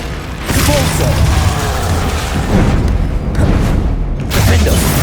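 Convulso spell blasts in Hogwarts Legacy, loud booming bursts that swell and crash in quick succession over a dense layer of combat noise, with a voice in the mix.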